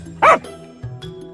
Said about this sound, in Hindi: लेकिन तभी एक कुत्ता जोर से भौंकता है।